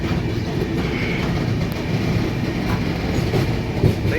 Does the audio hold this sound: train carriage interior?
yes